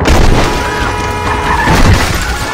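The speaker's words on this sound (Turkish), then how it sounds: "gene büyük bir patlama oldu" A big explosion in the Call of Duty Modern Warfare video game: a loud, sustained boom and crash with rumbling debris that fills the whole stretch, with no talk over it.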